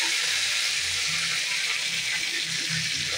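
Dried red chilli drops into hot oil for tempering, already holding black gram dal and curry leaves, giving a steady, dense sizzle with a continuous hiss and no voices.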